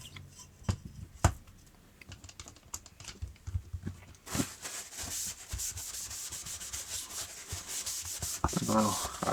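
A Cold Steel Recon Tanto knife blade scrapes across the 700 grit side of a sharpening stone in close, repeated rasping strokes, sparse at first, then continuous and louder.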